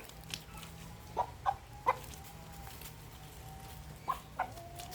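Burmese roosters, a young flock at a farm, give several short clucks and calls in two bursts, moderately near over a quiet low background hum.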